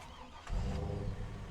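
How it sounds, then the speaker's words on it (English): A pickup truck engine in Farming Simulator 25 cranks and catches, jumping from quiet to a steady, full idle rumble within about a second; no talking. "I haven't even had the opportunity to turn off the automatic engine start."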